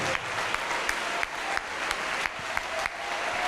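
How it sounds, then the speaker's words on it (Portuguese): A church congregation claps steadily in applause, a dense wash of many hands filling the room with occasional louder accents and no clear voices on top. "Vamos aplaudir mais, vamos aplaudir mais."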